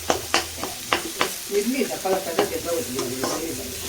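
Chopped onions fry in a pan for a spicy curry-leaf pepper chicken dry, giving a close, steady sizzle broken by sharp clacks and scrapes of a spoon stirring at irregular intervals.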